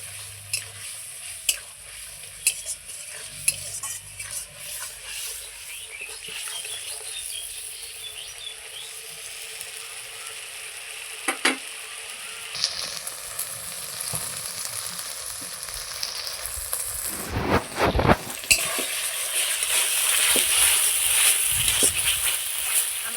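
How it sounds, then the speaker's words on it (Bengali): Spice paste with turmeric and salt fries quietly in a pan, a soft steady sizzle broken by occasional scraping stirs and clinks, growing a little louder toward the end, with faint insect-like chirps in the background. "এই হলুদ আর লবণ দিয়ে খুব সুন্দর করে মশলাটাকে কষিয়ে নেব"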